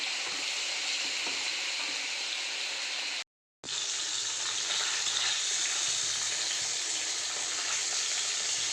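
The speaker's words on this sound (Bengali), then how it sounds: "মাছগুলো ভাজা হয়ে গেছে, এক এক করে তুলে নেবো। এবার ভেজে নেবো বাটা মাছগুলো।" Fish frying in hot oil in a pan gives a loud, steady close-up sizzle that cuts out completely for a moment, then resumes at the same intensity.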